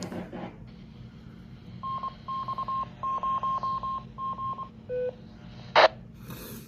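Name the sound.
Baofeng 5RM radio keying up a repeater, tones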